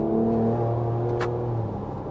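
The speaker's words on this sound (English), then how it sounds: "I'm not in love with the exhaust note" A Ford Ranger Raptor pickup truck engine hums and revs steadily with a deep, droning exhaust note, fairly loud and close throughout.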